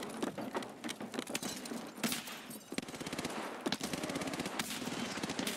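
Gunfire from Escape from Tarkov Arena rattles in rapid automatic bursts mixed with single shots, somewhat distant and layered over a steady game background, with no voices.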